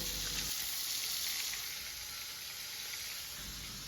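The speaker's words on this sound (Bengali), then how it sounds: "এখন কড়াইতে আমি পটলগুলো ভেজে নিচ্ছে" Pointed gourd (potol) fries in hot oil in a kadai with a steady, dense sizzle and crackle that carries on unbroken throughout, fairly close and alone without talk.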